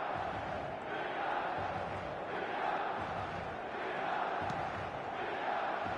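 A large stadium crowd in the eFootball 2026 video game roars steadily after a goal, a dense, sustained wall of cheering with no clear breaks.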